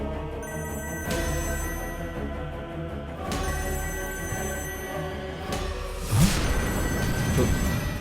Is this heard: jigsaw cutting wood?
no